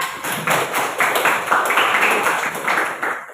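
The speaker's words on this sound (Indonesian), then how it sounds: "Tepuk tangan untuk Aulia" A small group claps for Aulia in a classroom lesson, a short burst of close, fairly loud rhythmic clapping that fades at the end.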